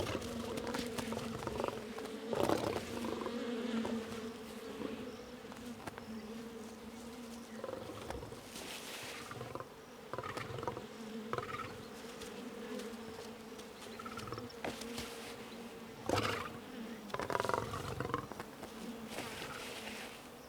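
An angry swarm of wild bees in a Kenyan national park, disturbed by a lion cub, buzzing in a dense continuous drone with rising and falling swells.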